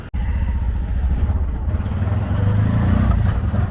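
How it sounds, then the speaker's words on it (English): An open tuk-tuk's motor revs and drones loudly and steadily through a ride on Cambodian streets, with passing traffic around it. "we're gonna take this tuk-tuk, we're gonna go for a ride"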